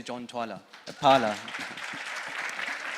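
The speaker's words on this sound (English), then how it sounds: "let's give a round of applause" Audience applause breaks out at a SasolTechnoX 2023 technology event, a sustained wash of many hands clapping that rises right after a man's spoken introduction and carries steadily to the end.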